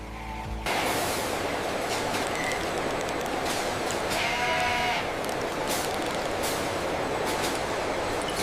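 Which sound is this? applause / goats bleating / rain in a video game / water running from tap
goats bleating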